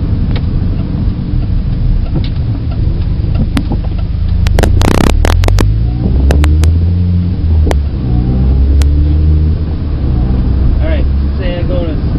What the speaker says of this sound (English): So if I just let the clutch out, then watch it goes up.